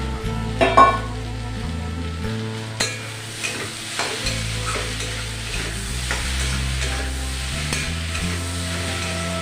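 Egg and vegetable mixture with chopped coriander and broken fried dried chilli being stirred in a hot pan for samosa filling, steady frying sizzle with repeated scraping stirs and a few sharper utensil knocks near the start.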